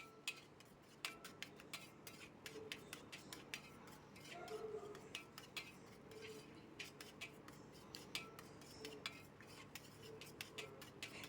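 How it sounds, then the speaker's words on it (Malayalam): Utensil stirring chickpea payasam in a pan, scraping and tapping against the metal in an uneven series of light clicks and clinks at moderate distance, with no talking. "കുറച്ച് നേരം ഒന്ന് ഇളക്കി കൊടുക്കാം."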